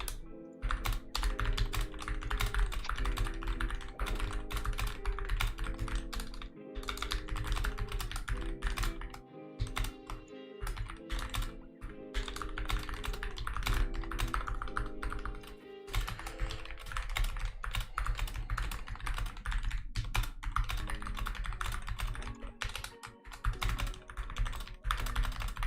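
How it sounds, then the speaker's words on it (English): Rapid, steady clatter of keys on a computer keyboard, continuous and close, mixed with low background music or game sound throughout. "Sorry, I'm typing right now."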